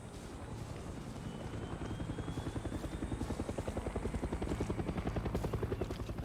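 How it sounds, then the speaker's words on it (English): A video game helicopter's rotor chops steadily throughout in Far Cry 6, a dense rhythmic thudding with engine whine, fairly close and growing slightly louder toward the end. "Oh, I thought that helicopter was coming after me."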